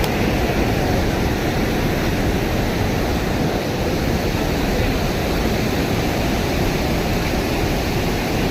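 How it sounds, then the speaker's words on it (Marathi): Water gushes from three open gates of a large dam, seven gates in all, in a loud, unbroken roar that stays steady throughout. "हे बघू शकता पाण्याचा धो आवाज"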